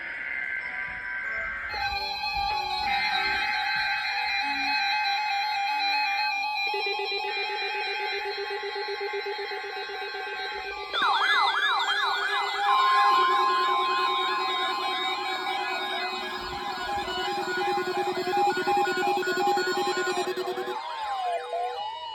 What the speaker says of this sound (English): The preceding signal was a test of the NOAA All Hazards Radio Public Warning System